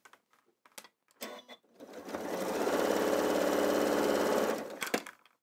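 A sewing machine stitches fabric close to the edge within the seam allowance while making a quilted gift bag, a steady close whir running about three seconds after brief talk.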